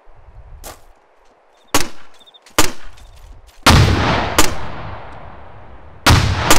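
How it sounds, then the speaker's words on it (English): An M203 grenade launcher fires HEDP rounds in the video game ArmA 2, with several sharp loud reports spaced a second or two apart, some followed by booming rumbling impacts. "switching to your M203, load HEDP, sight in on the closest target, and I want you to guesstimate your range and fire when ready"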